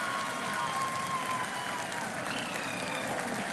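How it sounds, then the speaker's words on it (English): A crowd applauds during a live event, the clapping a dense, steady, distant wash that continues without a break through the whole moment, with a faint tonal hum running underneath. "People are applauding."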